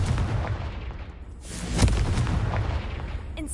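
A Confringo blasting spell explodes in Hogwarts Legacy while a spider-filled cellar is being cleared: a loud, booming burst near the middle with rumbling low blasts and crackle before and after it. No voices are heard.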